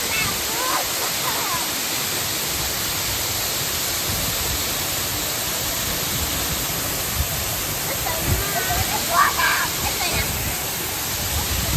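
Loud, steady roar of a waterfall spraying inside the Eden Project's rainforest biome in Cornwall, a dense continuous rush filling the whole space, with voices faintly audible beneath it.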